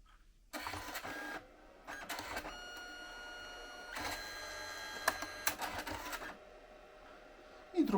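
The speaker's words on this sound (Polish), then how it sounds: "Wysyłam zdjęcie, zresztą znane Państwu, na drukareczkę" A small instant photo printer whirs and buzzes in four mechanical passes, starting and stopping with short pauses between runs.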